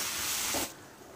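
Sliced onion sizzling as it frys in a pan for bisi bele bath, a steady close hiss that suddenly drops to a quieter simmer partway through, with no talking.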